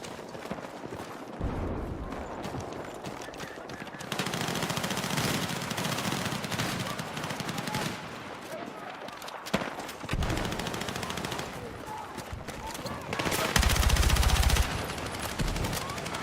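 Automatic weapon fire in the Battlefield 6 beta comes as rapid bursts of shots with short gaps, the loudest burst near the end, over a busy game-battle background, and no voices.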